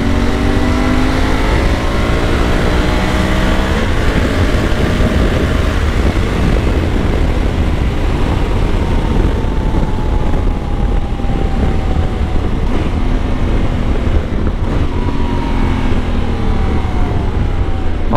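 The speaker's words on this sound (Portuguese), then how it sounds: "o ronco dessa moto é encorpado" A loud, continuous Honda Africa Twin 1100 Adventure Sports motorcycle engine roar rumbles close by, with deep low-end throb and occasional rising pitch as it revs.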